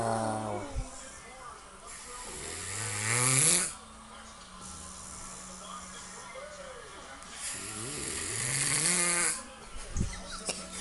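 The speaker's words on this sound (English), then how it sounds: "this guy's been doing this for the past hour straight of snoring" A man snoring loudly and repeatedly, with deep rasping pig-like snorts that rise in long swells, the heaviest bursts near the start and again around the middle, amid some background noise.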